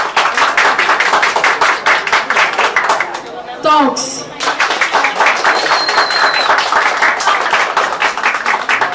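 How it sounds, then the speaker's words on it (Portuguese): Audience at a Harry Potter book box launch clapping hands loudly and steadily in a dense, continuous burst, with a brief pause partway through and voices calling out over the clapping. "Vamos lá, de novo, só com palmas."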